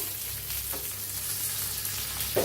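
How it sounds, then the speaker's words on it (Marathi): Cumin seeds fry in hot oil in a pan for a chilli chutney, giving a steady close sizzle with faint crackling and a brief stirring scrape near the end, with no talk. "असं तेल घालायचं म्हणजे मस्त भाजतात आपले जिरा"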